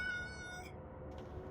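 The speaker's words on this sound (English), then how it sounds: "There's a cat! There's a cat!" A cat in the dungeon-crawler game Cyclopean gives a single short meow, clear and close, with a soft ambient game hum beneath it.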